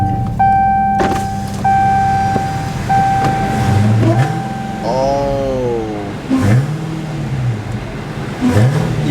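A Dodge Hellcat Charger fitted with a new air intake revs loudly and close by, with several rising and falling blips, alongside whining tones and mechanical clunks.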